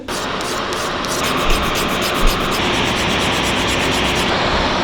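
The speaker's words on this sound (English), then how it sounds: "now I'm just gonna do a little bit of filing" Nail file rubbing back and forth across a fingernail, a steady close scratchy rasp with quick regular strokes that continue without pause, no talking.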